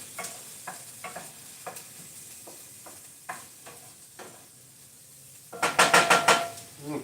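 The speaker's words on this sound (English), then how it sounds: "And we're doing our saute." Pan sizzling under a steady low hiss, with scattered clinks and scrapes of stirring, then a louder burst of crackling sizzle near the end.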